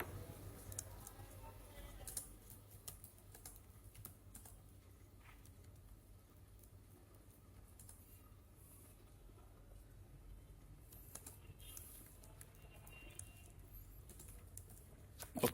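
Computer keyboard typing in a Hindi/Urdu InPage word-processing lesson, faint scattered key clicks over a low steady background hum, with no talking.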